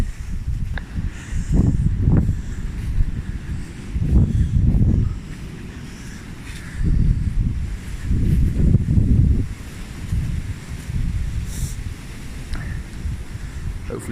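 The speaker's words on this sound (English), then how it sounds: "Hopefully you can hear the wind." Storm Arwen winds blow beside Rea Brook in Shrewsbury, UK, in loud, gusty bursts of buffeting roar that rise and fall over a rumbling outdoor background.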